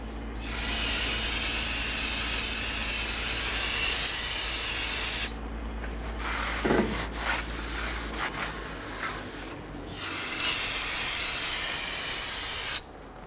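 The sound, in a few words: spraying cleaner on brake rotor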